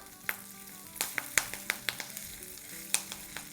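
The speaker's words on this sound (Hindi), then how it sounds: "और अब इसमें हम डालेंगे कड़ी पत्ते कुछ।" Curry leaves crackle and sizzle in hot oil for a tempering, with sharp popping bursts scattered over a steady close frying hiss.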